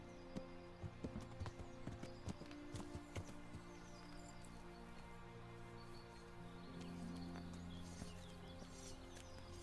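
Horse hooves in the video game Kingdom Come: Deliverance, a faint, steady clip-clop of a ridden horse moving along, with irregular hoofbeats over a low background hum.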